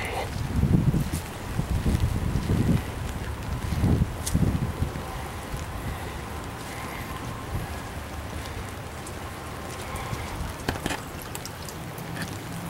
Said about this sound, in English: It really is just like a heavy rainstorm. It's just breezy and raining.